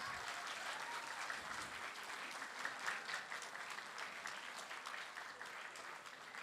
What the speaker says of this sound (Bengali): এই অসাধারণ উপস্থাপনাটির জন্য একটা জোরে হাততালি আরেকবার।